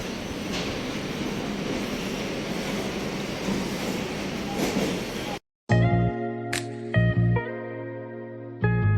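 A continuous rumble of a train bound for Howrah rolls by nearby on an Indian railway, then cuts abruptly to a different recording with a steady tonal hum and clanks.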